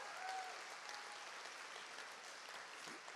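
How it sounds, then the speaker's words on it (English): Audience applause at the NSPCC Childline Ball, a dense sustained clapping from a large crowd that runs steadily for the whole stretch without any voices over it. "Yeah, it deserves a round of applause."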